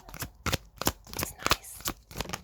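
Tarot cards are shuffled by hand in a quick series of crisp riffling snaps and slaps, roughly seven or eight bursts in close succession, near and fairly loud.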